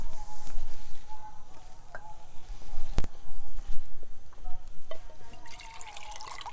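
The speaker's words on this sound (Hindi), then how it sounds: "इसके अंदर हम 2 गिलास पानी डालेंगे" Water is poured from a glass into a cooking pot to make sugar syrup for gulab jamun, a trickling, splashing stream close by with a sharp clink partway through and no talking.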